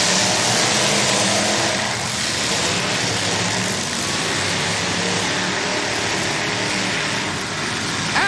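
Race cars roaring past on a racetrack, a loud, sustained engine drone with swelling passes that blend into a steady wash of motor noise.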